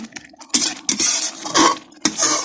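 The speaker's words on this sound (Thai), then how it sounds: "ผัดให้จนจนหอมนะผัดให้จนหอม" A spatula scrapes and clatters against a pan in quick bursts during stir-frying until fragrant, close and fairly loud, with no voices.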